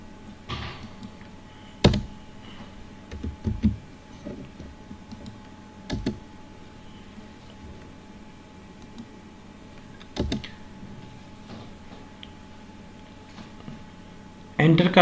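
A computer keyboard clicks during a Red Hat Linux installation. Scattered, sharp single keystrokes and a few short bursts are heard, ending with a firmer Enter press, under a voice speaking Hindi.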